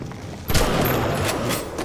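Gunfire in the video game BioShock: a dense, sustained burst of rapid shots erupts after a brief quiet start and keeps rattling loudly to the end, with no talk over it.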